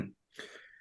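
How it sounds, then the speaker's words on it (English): A man clears his throat once, a short rough rasp heard close and faint, after a brief low vocal sound. "Oh, he has to clear his throat."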